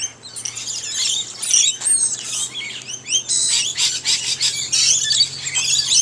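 Colourful birds at a park fish-filleting station in Australia squawk and chirp noisily, with many shrill overlapping calls close by and a low steady hum behind them.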